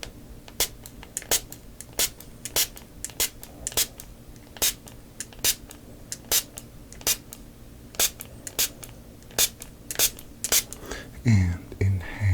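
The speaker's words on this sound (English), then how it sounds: "Here is the last spray." Aerosol spray fired in a long series of short, close hissing bursts at a fairly regular rhythm during a relaxing cranial nerve exam session, ending with a low rustle.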